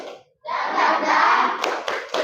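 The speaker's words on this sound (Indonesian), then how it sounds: "Tepuk semangat." A standing group in a classroom teaching session clap together, a dense burst of many hands with a few sharper claps standing out near the end.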